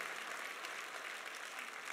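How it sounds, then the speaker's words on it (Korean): A church congregation breaks into steady, dense applause that fills the room evenly and continuously, with no voices standing out above the clapping. "박수로 한번 영광 돌리시죠"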